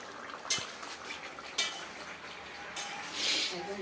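A metal lid is lifted off a pot of simmering rohu fish curry with potatoes, made from a large 4 kg rohu, giving a few sharp clanks of metal followed by a soft bubbling sizzle.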